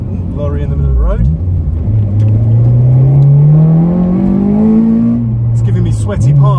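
A modified Honda EP3 Civic Type R with a 270bhp K24 engine pulls hard in third gear, its engine note climbing steadily before a brief gear change and renewed rise, loud and close from inside the cabin.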